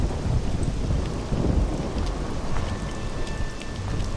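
A low rumble of thunder in the video game Dracula 3: The Path of the Dragon, rolling under steady heavy rain, with a faint high electronic tone in the background.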